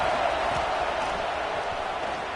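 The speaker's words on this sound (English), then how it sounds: "Listen to the crowd energy here in the early going" A dense, steady roar from a stadium crowd cheering at a football game, loud and continuous throughout with no clear break.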